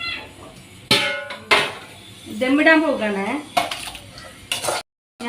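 A cooking pan used for beef biryani is handled and moved with several sharp metallic clanks and scrapes, close by, while a person speaks briefly in the middle.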